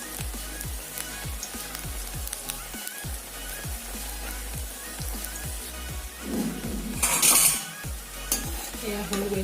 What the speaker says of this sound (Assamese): এয়া হৈ গৈছে মোৰ বৰ ভজা